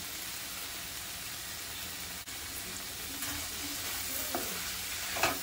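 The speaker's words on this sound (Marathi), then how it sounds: "चांगले मिक्स करून घेऊया." Potato and dried shrimp curry with fresh coriander being stirred in a hot pan, a steady close sizzle with a few faint scrapes of the spoon against the pan and no talking.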